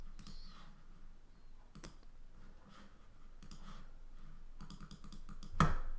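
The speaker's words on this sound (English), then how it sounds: "I'll just type my name in and see what happens." A computer keyboard being typed on in a few short bursts of clicky keystrokes, close and fairly quiet, ending with a sharper tap.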